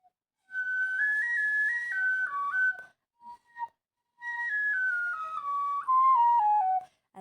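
A tin whistle plays a simple game tune alone, bright stepped notes in two phrases separated by a short pause, the second phrase descending.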